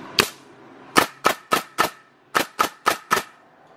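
A MAX CN630 pallet coil nail gun firing nine sharp, loud pneumatic shots in quick bursts, one alone followed by two rapid groups, crisp and close in an otherwise quiet space.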